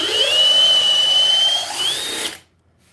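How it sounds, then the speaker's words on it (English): A powerful handheld power drill runs at high speed with a loud, steady whine that dips briefly, holds, then winds down and cuts off abruptly, leaving silence. "This is arguably the strongest drill on the market today"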